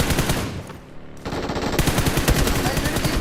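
Rapid automatic gunfire from a shooting video game, bursts of loud close shots firing in a steady rattling rhythm, with a short quieter gap before the shooting resumes and runs continuously to the end.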